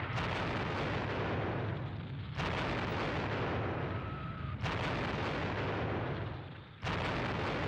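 Nebelwerfer rocket artillery fire in the World War II strategy game Squad Battles at Ponyri comes as dense, roaring bursts that cut off abruptly and restart, loud and continuous with no voices.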